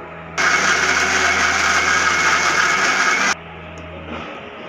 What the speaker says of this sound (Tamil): இப்போ மிக்சியில் அரைச்சிக்கலாம்.